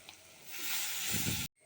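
Jackfruit seeds spooned into a hot pan of oil give a sudden close sizzle that swells into a steady hiss with stirring scrapes, then cuts off abruptly.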